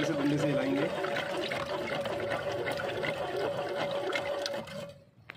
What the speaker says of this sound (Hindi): इसको इस तरह से डंडे से हिलाएंगे।